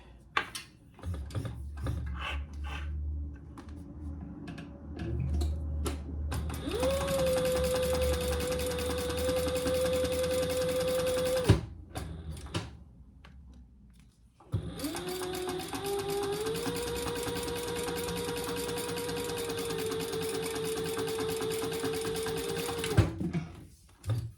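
A sewing machine runs a top-stitching seam near a folded bottom edge on a zipper case, two long steady runs of humming, rapid needle stitching separated by a short pause, close and clear.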